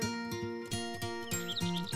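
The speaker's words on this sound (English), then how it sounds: "those birds are singing. I think they're robins." Robins sing in spring outdoors, with a few quick high chirps near the end over steady, louder background music with a regular beat.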